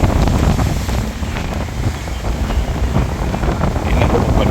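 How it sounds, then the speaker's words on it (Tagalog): Strong wind buffets the microphone in a loud, continuous roar with gusty swells, like being out in open air by the water. "Grabe ka gusto ng hangin."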